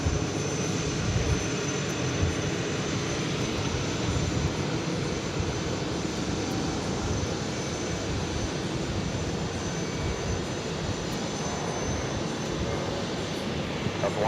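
A Delta heavy jet going around at JFK runway 22 left produces a sustained, fairly loud engine roar at some distance, steady throughout with no clear voices over it.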